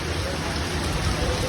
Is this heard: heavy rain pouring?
yes